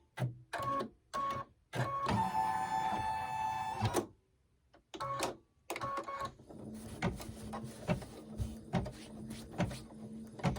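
An embroidery machine stitching around the outline of a table runner to tack it down, with short whirring bursts, a longer steady run, a pause, then rapid repeated needle clatter, with no talk.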